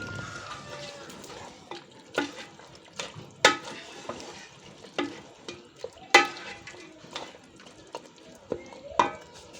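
Mutton pieces frying in ghee in a karahi, with soft sizzling under repeated sharp scrapes and clanks of stirring, close by and moderately loud throughout.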